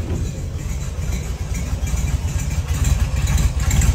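A 1970 VW Beetle's air-cooled engine idles close by, a steady low chugging rumble that swells slightly toward the end, running alone without talk.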